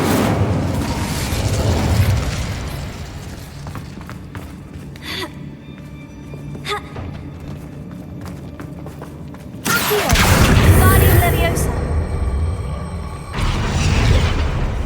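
An Incendio fire spell in the Hogwarts Legacy video game bursts with a sudden booming whoosh after a quieter stretch of game ambience, followed by a second, lighter rush of effect sound.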